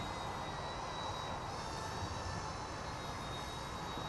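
Small C-186 RC helicopter flying at dusk gives off a steady, thin, high-pitched motor whine and a rotor hiss. The sound stays constant and fairly faint for the few seconds, with no talk.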